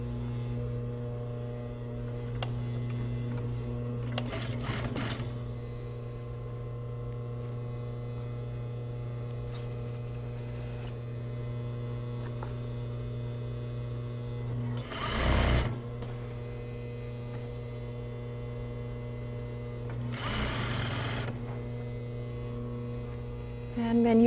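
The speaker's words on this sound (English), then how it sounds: "match hem of the lining and hem of the self and sew them together with half inch seam allowance here" Sewing machine running steadily while sewing the hem of a jacket lining to the outer shell hem, a continuous close mechanical whir over a low mains hum, with short louder bursts around the middle and near the end.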